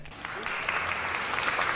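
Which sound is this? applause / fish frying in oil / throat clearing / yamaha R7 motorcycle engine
applause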